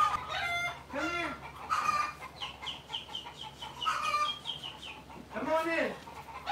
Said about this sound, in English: I opened up my door and a chicken walked in the house.